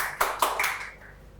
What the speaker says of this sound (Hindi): चलो एक बारी जोरदार तालियां सौम्या गर्ग के लिए